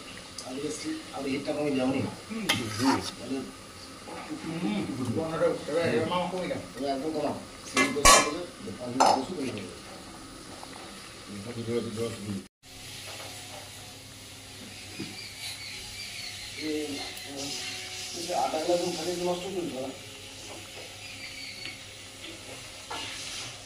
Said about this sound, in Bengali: মাছ ছাড়ছি এই টকে, এই মাছ ছাড়লাম, তাকে একটু নাড়া দিয়ে